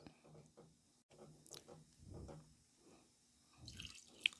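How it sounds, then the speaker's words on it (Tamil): About a quarter cup of water goes into a pot of beetroot sambar, making soft, faint splashing and dripping sounds in a quiet kitchen. "1/4 கப்பு தண்ணி ஊற்றிட்டுருக்கேன்."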